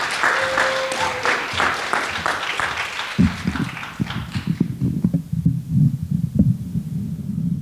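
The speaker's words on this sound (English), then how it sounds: "Give a round of applause for Aaliyah." Applause from a high school poetry recitation audience, dense clapping for about three seconds that thins into scattered, sparser claps and low thumps before fading.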